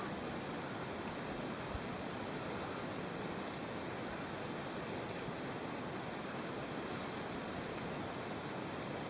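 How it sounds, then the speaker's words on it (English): Surf washing over a rocky beach on the Scottish coast at a wild camping rest stop, a steady, loud broadband roar of breaking water with no distinct gaps, close and continuous throughout. "Got a rocky beach here as well."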